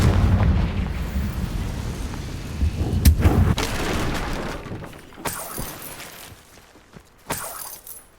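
Confringo fire spell blasts burst in a Harry Potter video game, several sharp explosive bangs with crackling debris and rumbling tails, loud and close, with no talk.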